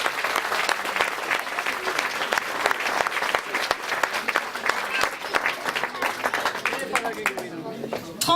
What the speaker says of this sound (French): Merci de les applaudir encore tous.